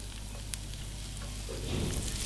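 Two cloves of chopped garlic and half an onion sautéing in a pan of melted fat, giving a steady close sizzle with light crackles that thicken and brighten toward the end, with no one talking.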